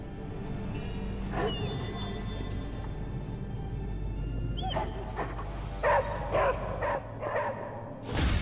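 A dog in the video game Marvel Midnight Suns whimpers and yips in short bursts, with a few soft barks, over a steady low background hum.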